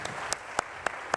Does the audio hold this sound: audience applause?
yes